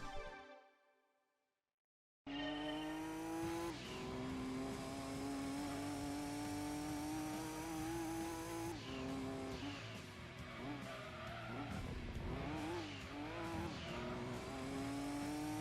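Nissan R390 race car lapping Laguna Seca in Gran Turismo 2: after a brief silence, a loud, sustained high-revving engine drone rises and dips through gear changes and corners, with some tire squeal, close and continuous.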